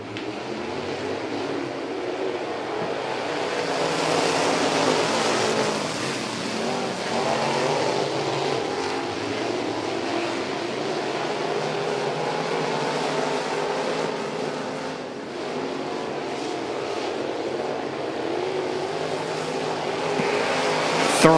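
Dirt track race cars roar around a Louisiana speedway at a state championship under green flag racing, a continuous loud wash of engines rising and falling as the pack passes at a distance.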